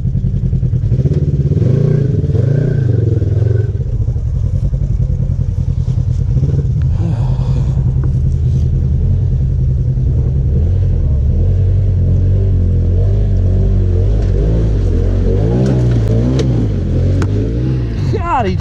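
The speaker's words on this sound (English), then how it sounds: "Now give him some gas and go forward." An off-road vehicle's engine revs and rumbles loudly as it drives forward on a muddy trail, a steady throaty drone with surging throttle and clatter, while people talk nearby.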